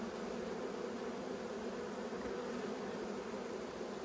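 Honey bees swarm around an opened hive during a late-winter inspection, making a dense, steady buzz that stays close and continuous throughout, with no voices.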